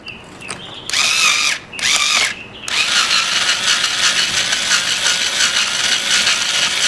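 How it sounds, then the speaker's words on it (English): A small power drill whirs loudly in short bursts, stopping and starting twice before running steadily with a grinding, mechanical whine. "Now this little drill is new to me."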